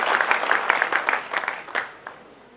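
Audience clapping at a Hindi heroic-verse poetry gathering, a burst of many hands that starts strong and fades out over a couple of seconds.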